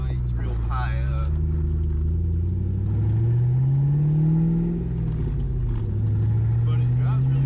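A 1996 Mustang GT with a swapped-in manual transmission drives along, its engine giving a deep, steady rumble that rises and falls in pitch as it pulls, heard from inside the car with a voice briefly talking near the start.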